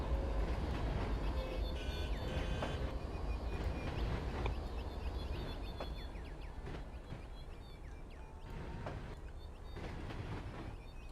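CSX freight train pulling out in the Trainz TRS19 simulator, a continuous low rumble of rolling wagons with faint rail clatter and light squeals, steady and moderately loud, no voices.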